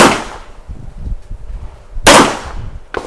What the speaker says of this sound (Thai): พร้อมแล้วเริ่มยิง